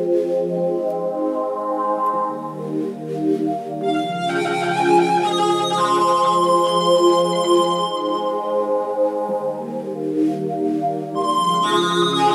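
A song chorus is played on an instrument with distortion, an octave higher, as sustained, buzzy chords and notes that shift in several sections and become brighter and denser partway through.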